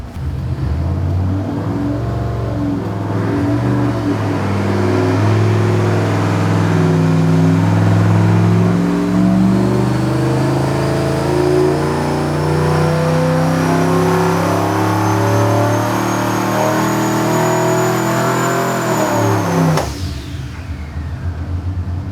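A turbocharged car engine, with its wastegate back on, revs hard on a dyno for about seventeen seconds: a loud, steady roar with rising pitch and a climbing whine, then cuts off sharply near the end.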